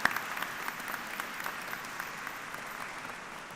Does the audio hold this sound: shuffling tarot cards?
no